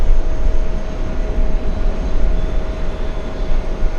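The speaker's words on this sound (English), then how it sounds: "Lufthansa 411, a big Airbus A380." A Lufthansa Airbus A380 jet takes off, giving a heavy, rumbling engine roar with a faint steady whine over it, loud and continuous.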